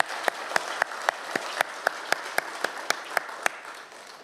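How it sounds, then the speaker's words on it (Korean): A church congregation at an Easter Sunday service claps in unison in thanks to God, with a steady rhythmic beat of about fourteen sharp, evenly spaced claps that fade at the end. "우리 시간 함께 이 감사의 박수를 하나님께 올렸으면 좋겠습니다"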